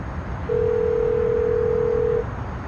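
A telephone line tone sounds while a call is being placed, one steady unbroken tone of roughly two seconds over quiet room background, with no voices.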